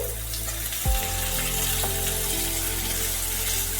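Sliced onions hit hot oil with turmeric in a pan for chickpea masala, setting off a steady loud sizzle with a thump as they drop in, the hiss continuing unbroken close by.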